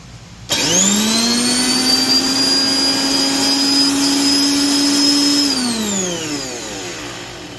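A Vevor 18-inch electric roto tiller switched on, its motor whining up quickly to a loud, steady high-pitched hum with a tonal buzz, holding for several seconds before winding down as it is turned off.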